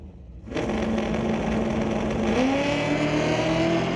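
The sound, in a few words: drag race car launching down the track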